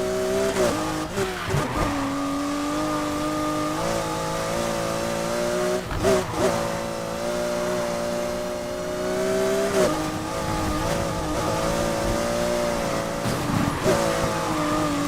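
A Porsche in the Need for Speed racing game roars under hard acceleration, its engine note rising and shifting across several gear changes, with short bursts of tire squeal, loud and close.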